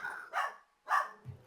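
Miko, a pet dog, barks twice in sharp, close bursts, with a short pause between them and a low grunt or whimper at the end.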